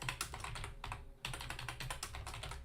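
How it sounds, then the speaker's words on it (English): Fast, steady clatter of keys on a computer keyboard, close and fairly quiet, with a brief pause partway through before the typing resumes; no talking. "typing."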